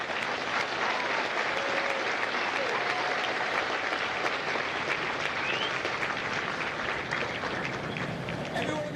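Sustained applause from a large crowd at a Marine Corps recruit graduation at MCRD San Diego, honoring the families of the company; steady, dense clapping fills the whole stretch with scattered voices beneath.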